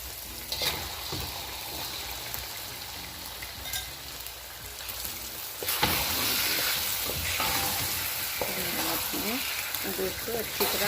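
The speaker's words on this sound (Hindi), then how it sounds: "दो मिनट तक आपने इसको फ्राई करना है" Mutton pieces frying in a pan for bhuna gosht, a steady broadband sizzle with intermittent scraping stir strokes, growing louder and busier partway through.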